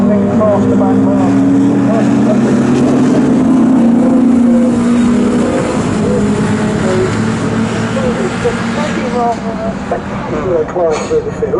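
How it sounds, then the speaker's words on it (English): A Jaguar touring car from a pre-1983 saloon and GT race at Donington roars past, its engine note loud and sweeping, heard beneath a commentator talking over the circuit noise. "Here comes the number 4 Jaguar through"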